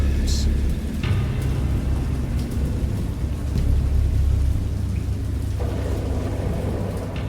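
A thunderstorm with pouring rain in the video game Dagon, a steady heavy downpour hiss over deep low rumbling thunder, loud and continuous, with a voice faintly beneath.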